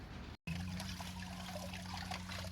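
Plant trays are washed in a tub of bleach water, giving a faint, steady trickling and sloshing of liquid with no voices.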